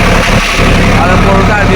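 Swaraj 744 XT tractor engine running with a rotavator, a steady loud diesel drone over a brief stretch, with voices talking over it.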